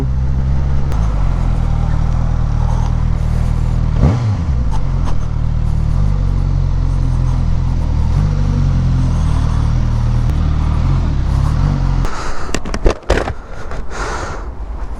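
A Suzuki GSX-S 1000 GX motorcycle runs under opened throttle, its loud engine drone droning steadily with a quick pitch sweep, mixed with wind buffeting and a burst of rough noise near the end.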